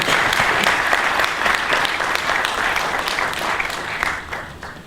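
An audience at a Christian literature fair in Kinshasa applauds in a dense, steady wash of clapping that holds strong throughout, fading slightly toward the end.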